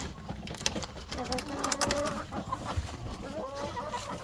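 Chickens and a rooster cluck in scattered bursts inside a rooster pen, the calls moderately close over a busy, noisy background.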